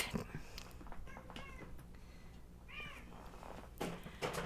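A pet cat stirring awake gives a few soft, short meows and chirps over quiet room background, fairly close but low in level.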